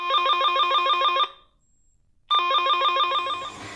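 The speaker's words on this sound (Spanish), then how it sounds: "O el portero automático." Electronic door intercom buzzer rings in a loud repeating warbling chime, a burst of just over a second, a short silence, then a second burst starting, with no voices.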